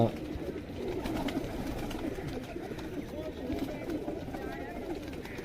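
Pigeons coo quietly in low, continuous murmurs, partly masked by a dense rustling background and faint indistinct voices.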